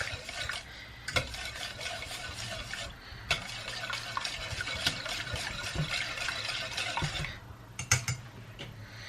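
A breast-milk lotion mixture is whisked in a pot, with soft continuous swishing and scraping plus a few sharp metallic clinks against the side, quiet and close, with no talking.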